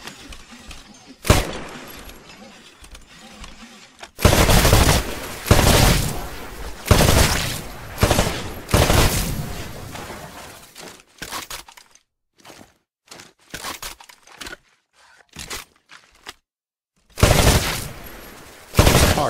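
Gunfire at shooting range targets in Titanfall, bursts of rapid automatic shots and single loud cracks with glass-like shattering, separated by short silent pauses.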